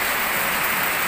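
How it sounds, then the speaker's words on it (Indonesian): Steady rain falls at night beside a river on a fishing trip, a dense, even hiss that fills the short moment with no gaps and no voices. "Hujan."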